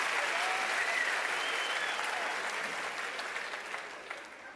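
Dense audience applause at a Juste Pour Rire comedy show, a loud steady wash of many hands that slowly tapers off toward the end.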